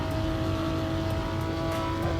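A Porsche in a driving video game runs at high speed with a steady, loud engine drone and tyre roar. The sound holds at constant pitch with faint ticks, and no voices are heard.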